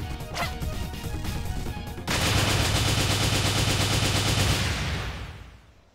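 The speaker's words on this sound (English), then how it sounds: "Are these explosions and stuff super loud for you guys also?" Video game gunfire and explosions in Freedom Planet: rapid gunfire crackles and pops, then a loud sustained burst of blasts and booming explosions that roars on before fading out.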